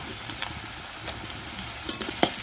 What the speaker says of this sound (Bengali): এভাবে আমি আলুটাকেও ভেজে নেব, কিন্তু আলুর ভিতরে হালকা একটু লবণ দেব